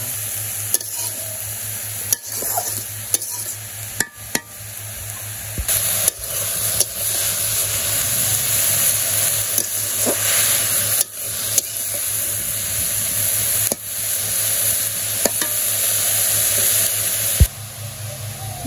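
Greens stirred and fried in a pan over a steady, continuous sizzle, with repeated scraping stirs and sharp clatters of the spatula against the metal running throughout.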